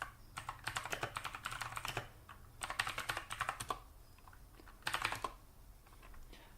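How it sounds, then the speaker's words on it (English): Keys clatter on a computer keyboard as a Linux command is typed, coming in several quick bursts of clicks with short pauses between, near and fairly quiet, with no talking. "type in sudo systemctl"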